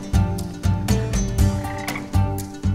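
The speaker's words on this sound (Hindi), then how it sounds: "हरा मेंढक पीपी बजाते ही आ गया।" A green frog croaks in a jungle scene in an Indian action film, repeated loud pulsing croaks in an uneven rhythm over a musical backing.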